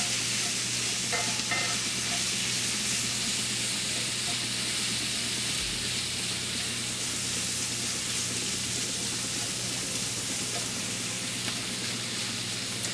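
Sweet potato stir fry sautéing in olive oil in a skillet, with a steady broadband sizzle and occasional stirring scrapes running continuously and fairly loud throughout, no talking.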